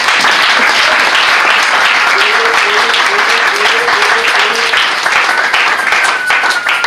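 A church congregation applauds loudly and continuously, dense clapping mixed with cheering voices and a few shouts throughout.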